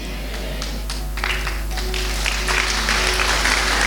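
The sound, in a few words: congregation applauding in church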